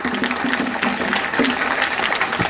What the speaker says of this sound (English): Can we clap for our parents?